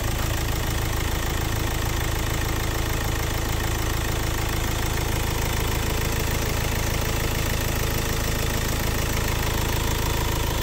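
A 2013 Hyundai Verna Fluidic SX(O) diesel engine idles close by with a steady, continuous clattering rumble that holds even throughout, with no voices over it.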